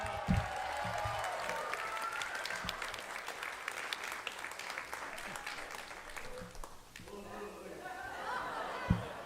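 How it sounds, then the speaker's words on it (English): Faint applause from a live comedy show crowd greeting a performer, a sustained patter of clapping mixed with murmured chatter and light laughter, dipping briefly before swelling again near the end. "A round of applause for him."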